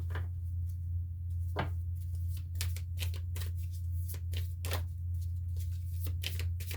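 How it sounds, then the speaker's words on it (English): Tarot cards being shuffled by hand in a series of quick riffling bursts and soft taps, close up, over a steady low electrical hum. "Let's shuffle again."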